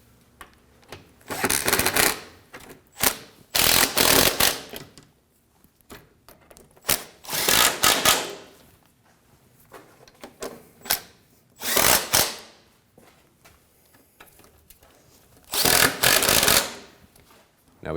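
Bolts on a thermostat housing of a 2009-2014 Ford F-150 3.5L V6 being snugged down with a tool, heard as several bursts of ratcheting, rasping clicks separated by pauses, close and moderately loud.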